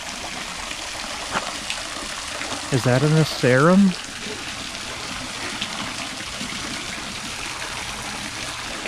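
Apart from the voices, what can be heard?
small garden waterfall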